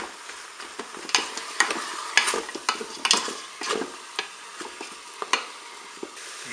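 Onions added to pork chops frying in a Cookeo multicooker, with repeated scraping and stirring strokes of a utensil over a light sizzle, irregular clacks close by and no talking.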